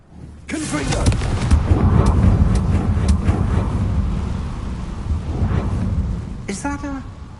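Confringo blasting spell in Hogwarts Legacy erupts in a loud, rumbling explosion that rolls on for several seconds like thunder with crackling debris, ending with a short spoken voice over the fading tail.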